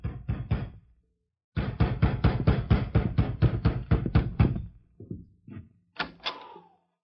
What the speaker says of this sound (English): It must have been about midnight when I heard a knock at the door.